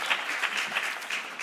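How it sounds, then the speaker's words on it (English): Audience applause fills a conference hall at an engineering conference, a dense steady burst of many hands clapping close and loud throughout, with no talking over it. "Can we give him a round of applause again for the press?"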